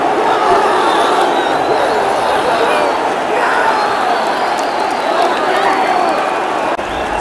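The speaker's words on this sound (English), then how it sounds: "What a goal! Excellent! Crowd going crazy again!" A packed football stadium crowd at a Motherwell FC versus Celtic FC match roars continuously after a goal, a dense, loud wall of cheering and shouting that holds steady throughout without a break.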